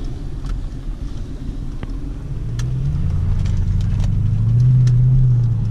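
A modified Lexus GS400 V8 engine and exhaust rumbles at close range, a deep steady idle that swells louder and fuller partway through and holds there, with no talking.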